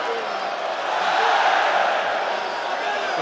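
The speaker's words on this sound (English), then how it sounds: "The Coca-Cola Arena crowd loving the work from Usman Nurmagomedov." Crowd at the Coca-Cola Arena cheering at an MMA fight in Dubai, a broad, steady roar of many voices that swells slightly in the middle and holds throughout.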